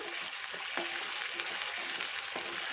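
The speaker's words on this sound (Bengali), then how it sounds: "2 মিনিট এটাকে ভালো করে কষিয়ে নেব" Steady, faint sizzle of a spice paste frying in oil over a medium gas flame for a Bengali koi fish curry, with a few soft stirring taps in the background.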